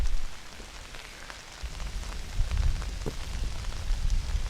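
Pouring rain pattering on surfaces outdoors on a golf course, a steady hiss of drops with louder low gusts swelling midway, no speech.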